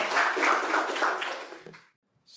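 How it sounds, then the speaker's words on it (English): Audience at a young farmer forum gives a brief round of applause, a dense burst of clapping lasting under two seconds before stopping abruptly into silence. "we want to give you a round of applause"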